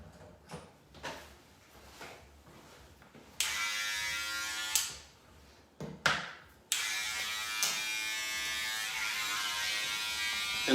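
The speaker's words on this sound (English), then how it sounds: "So I'm actually gonna do some clipper over comb in here." Electric hair clippers buzz steadily while cutting hair with the clipper-over-comb technique in a bathroom, running in long continuous stretches broken by brief pauses and taps as the comb moves through.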